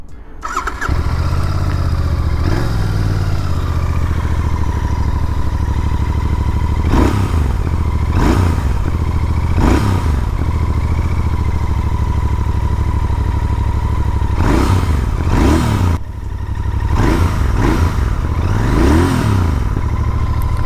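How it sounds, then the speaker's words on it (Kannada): Royal Enfield GT 650 twin-cylinder motorcycle idling in neutral with a loud, steady exhaust burble close by, broken by repeated sharp throttle blips that rise and fall, some in quick succession. "ಬನ್ನಿ ಎಕ್ಸಾಸ್ಟ್ ನೋಟ್ ಕೇಳಿಸ್ಕೊಳ್ಳೋಣ."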